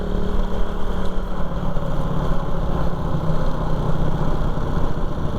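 A Harley-style motorcycle of roughly 600cc idles close by with a steady, loud, even rumble and no break for the whole stretch, with no voices over it.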